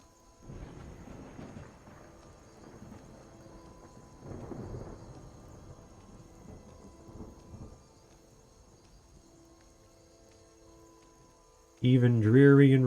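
Rain falls and low thunder rumbles in a rainy video game setting near the woods around Riverwood, heard in soft swells with a voice talking over it and a sudden loud tonal burst at the end.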